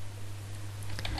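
Several quick keystrokes tapped on a computer keyboard while entering a customer ID into a Google Sheets data-entry form, faint and close against a steady low hum.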